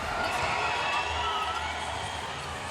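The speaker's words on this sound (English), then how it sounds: "A sold-out crowd cheering loud and proud for Boston in the green here tonight" A sold-out crowd at a professional women's hockey finals game in Boston cheers steadily, a dense roar of voices filling the arena, with a commentator's voice mixed faintly under the noise.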